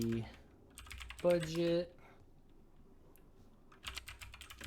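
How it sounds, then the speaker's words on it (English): A prompt being typed on a computer keyboard, bursts of quick close key clicks in two runs separated by a pause, with a brief voice speaking in the middle. "let's type up our prompt here"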